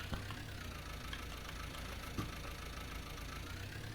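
A tractor idles in Farming Simulator 19 with a baler in tow, a quiet, steady low engine rumble with a faint rising whine and one soft knock.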